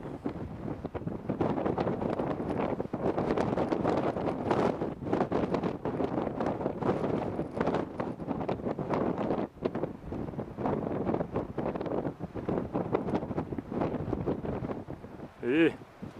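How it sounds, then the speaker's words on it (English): Strong wind buffets the microphone on a desert trek in Nepal near Jomsom, a steady loud roar with gusting surges that runs throughout, and a voice is briefly heard near the end. "So windy."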